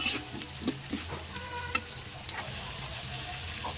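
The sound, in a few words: frying food in a pan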